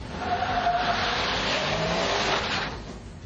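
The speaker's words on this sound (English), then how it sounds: "First, the four-wheel drive Dodge." A four-wheel drive Dodge truck drives in a demonstration run, giving a steady broadband rush of engine and road noise that stays loud for about three seconds and then eases off, with no talking.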